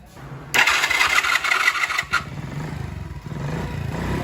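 A noisy 160cc motorcycle engine cranks and catches, revving loudly up close before dropping to a rough, uneven idle.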